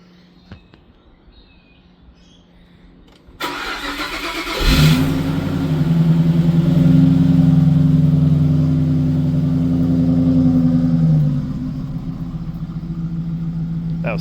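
A car engine cranks and catches after a few quiet seconds, flaring in a short rev before settling into a steady, loud idle that drops slightly near the end.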